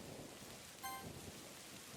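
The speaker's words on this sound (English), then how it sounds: "does it sound like thunder and the ground shakes beneath her feet?" Rain and a rumble of thunder from the video game Doki Doki Night Rain form a faint, steady wash of rainfall with one brief crack partway through.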